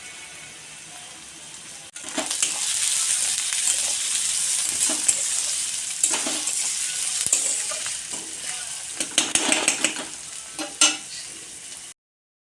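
Chopped garlic, ginger and chilli go into a pan of lightly browned frying onion, setting off a loud, close sizzle with scraping stirs and clatter that cuts out abruptly.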